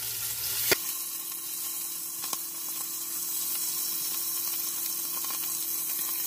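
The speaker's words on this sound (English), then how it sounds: "Go ahead and flip my bacon." Bacon frying inside a Ninja Foodi Possible Cooker Pro, giving a steady broadband sizzle with a sharp clatter near the start and a light knock midway, no voices.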